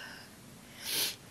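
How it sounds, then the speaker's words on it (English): One short, soft nasal sniff near the end, sounding close and faint against quiet room noise. "Don't mind me sniffling."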